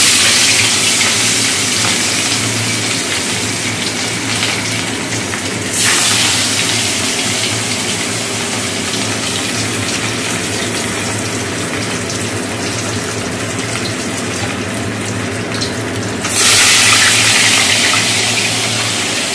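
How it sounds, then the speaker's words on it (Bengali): Fish rubbed with salt and turmeric fries in a pan, giving a loud, steady sizzle and crackle with two brighter, hissing surges partway through. "এবার মাছগুলো ভেজে নেব।"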